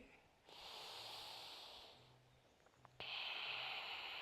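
Slow, deep breaths drawn and released through the nose during a yoga pose in a vinyasa class, soft and close, with a long exhale followed by a sharper, louder inhale.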